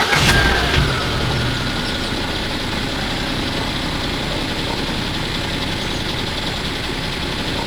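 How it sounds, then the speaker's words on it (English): A restored BMW engine turns over and settles into a steady idle, a continuous mid-pitched running drone heard close and fairly loud throughout, with no talk. "After several turns, the engine came back to life."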